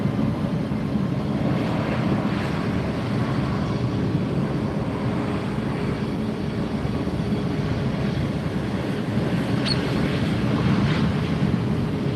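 A JetBlue jet takes off at Fort Lauderdale airport, a sustained, broad low roar heard from a distance with wind noise on the microphone throughout.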